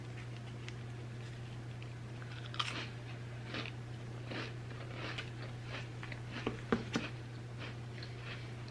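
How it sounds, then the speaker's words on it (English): Crackers dipped in caramelized onion dip being crunched up close, a string of soft crisp bites and chewing spread across several seconds over a low steady hum; no talking. "Let's try these with the caramelized onion dip. I feel like these crackers will allow the caramelized onion dip to kind of stand out a little bit better."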